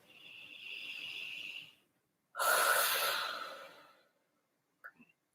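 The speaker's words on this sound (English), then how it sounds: "Take an inhale, exhale." Deep breathing during a yin yoga session: a slow, soft inhale followed by a louder, fuller exhale, close and alone in a quiet room, ending with faint small sounds.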